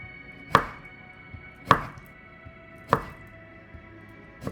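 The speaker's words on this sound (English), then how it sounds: "And then I'm going to go ahead and cut up the onion" A knife cuts up an onion on a board in three evenly spaced, crisp chops, close and clear over a quiet background.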